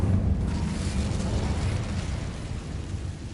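Incendio fire spell cast in the Hogwarts Legacy video game, a loud, deep rumbling fiery burst that starts strongly and roars steadily, then fades slightly over a few seconds, with no talking.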